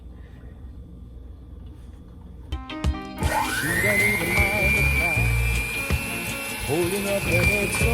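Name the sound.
creaming butter and sugar together for banana nut bread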